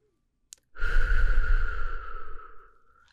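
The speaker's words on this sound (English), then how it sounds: "Could you take a deep breath for me again? Breathe in. Good. And one more time, breathe in." During a soft-spoken ASMR medical exam, a single long, deep exhale follows a brief click, close and breathy, fading out slowly over a couple of seconds with no talking.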